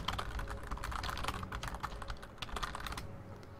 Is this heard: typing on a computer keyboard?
yes